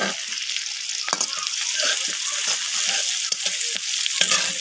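Vegetables (potato, beans, cauliflower, carrot) fry with turmeric and salt over a clay stove, giving a steady, close sizzle with occasional stirring clicks and scrapes throughout.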